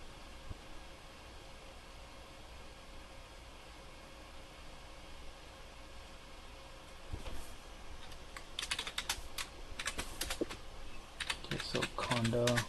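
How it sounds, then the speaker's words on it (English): Keys tapped on a computer keyboard while entering a conda command in a Linux terminal, starting as sparse clicks and building into a quick, close burst of typing over a steady background hiss. "we can just type in conda dash dash list"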